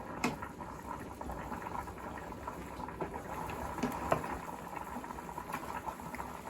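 Sauce simmers quietly in a pan for spaghetti, giving a soft, continuous bubbling with occasional small pops, fairly faint and steady with no talk.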